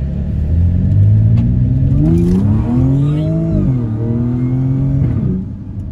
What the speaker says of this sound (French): Avec ta petite S5, on va entendre le compresseur, je pense, direct.